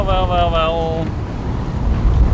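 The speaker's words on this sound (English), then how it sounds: "Started off with sailing, some motoring, more sailing as the wind picked up." Wind rushes over a sailboat underway, a steady, close, broadband roar with some water wash. A voice is briefly heard near the start.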